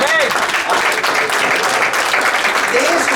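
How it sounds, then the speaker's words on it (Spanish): Congregation in a church service clapping together, a dense, steady applause that fills the space, with a voice briefly calling out over it near the start and end. "Un aplauso, Señor, por Juan Carlos."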